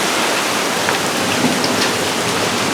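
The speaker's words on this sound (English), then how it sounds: "Hail." Heavy rain and hail pour down during a severe storm, a dense, loud, continuous hiss with no voices.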